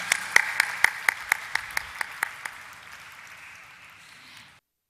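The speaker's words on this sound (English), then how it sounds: "let's have once again a huge applause for Senco Gold Limited" An audience applauds at the Bombay Stock Exchange listing ceremony for Senco Gold Limited, with a run of evenly spaced, rhythmic claps that thin out and fade to silence.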